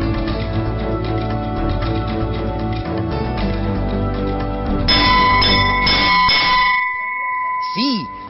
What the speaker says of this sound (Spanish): Nuestro presidente de directorio hace sonar las campanas del Colegio Santa Rosa de Valle Grande